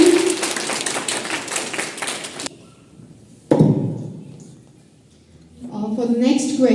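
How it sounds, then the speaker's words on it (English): Children clapping for a classmate in a first-grade classroom, a dense burst of small hands that stops abruptly after a couple of seconds, followed by a lone thump and then a voice. "Claps for him."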